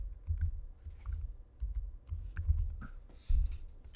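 Close, soft clatter of computer keyboard typing in uneven clusters of taps, with brief gaps between short runs of keystrokes.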